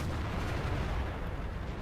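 A tank gun fires in the World of Tanks video game, producing a single dense, booming blast that fills the short clip at moderate loudness with no talking.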